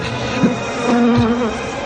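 Buzzing flies as a sound effect in a radio drama, a close, continuous droning buzz with wavering pitch as insects seem to circle, heard alone without speech.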